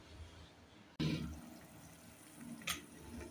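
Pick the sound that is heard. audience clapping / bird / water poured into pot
water poured into pot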